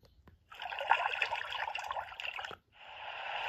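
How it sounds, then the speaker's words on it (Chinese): Underwater fish sound effect from a talking Lowly Worm picture word book: soft bubbling, trickling water for about two seconds, a brief break, then more bubbling, quiet and close. "就大海有大海的音效，然后鱼的话就有在水里的音效"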